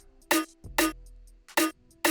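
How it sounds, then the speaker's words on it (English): Four punchy snare drum hits in a Mauritius style, with a tonal body and bright noisy top, played in an uneven pattern with a low bass tone sustaining under the second hit, alone without talk. "This Mauritius style snare."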